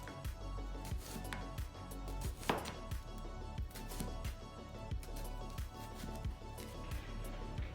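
A knife chops a vegetable into semicircles on a cutting board, steady repeated taps at about one per half second, close and moderately quiet, with no talk.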